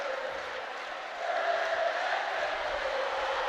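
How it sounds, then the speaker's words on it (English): A large crowd at a varsity rugby final roars loudly and steadily in the background, a sustained wash of cheering that swells slightly midway through. "as you can hear in the background there, the crowd going absolutely nuts for this now"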